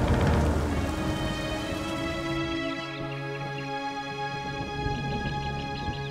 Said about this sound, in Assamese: বৰষুণ আহিব যেন পাইছো।